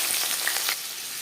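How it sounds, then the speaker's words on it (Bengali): Diced potato and pointed gourd hitting three spoons of hot refined oil for a Bengali vegetarian curry give a loud, hissing sizzle with a few crackling pops, easing slightly toward the end. "3 চামচ রিফাইন্ড অয়েল গরম করে নেওয়ার পর দিয়ে দেবো"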